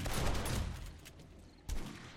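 Automatic turrets firing during a horde night in the video game 7 Days to Die, a dense rattling burst of gunfire that fades, then a fresh loud volley.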